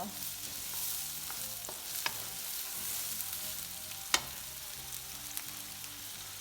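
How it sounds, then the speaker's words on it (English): Onions sautéing in a pan for pancit bihon give a steady close sizzle with frequent stirring scrapes and a few sharp utensil clicks, no talk. "it takes a while to kind of saute the onions until golden or like brown"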